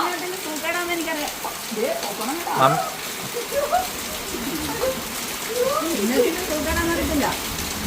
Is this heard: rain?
yes